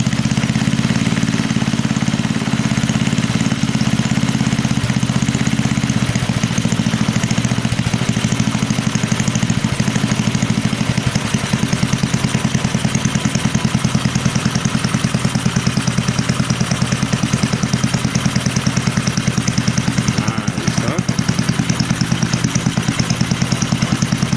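An Arco twin engine idles steadily, a close, loud, low throbbing rumble with slight variations in rhythm that keeps going the whole time with no talking.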